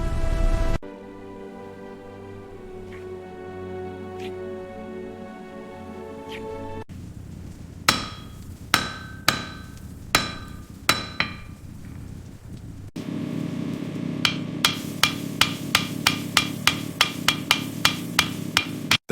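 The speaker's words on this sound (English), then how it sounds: "The hammer fell, iron sang." Hammer blows ring out on iron in a forge, a steady series of sharp metallic strikes with rising and falling pace, set against a low sustained drone and music-like ambience.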